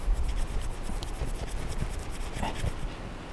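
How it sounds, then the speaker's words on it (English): A Procamptek fat rope stick fire plug being rubbed between bare hands, a close, continuous dry rasping and rustling friction with slight swells. "rub it in my hands and expose the surface area as much as I can"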